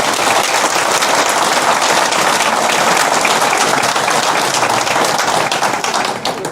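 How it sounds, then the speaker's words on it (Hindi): An audience at a political talk applauds two judges with loud, sustained, dense clapping that holds steady and starts to fade only at the very end. "दोनों जजेस के लिए पहले तालियां बजाएं आप सब लोग।"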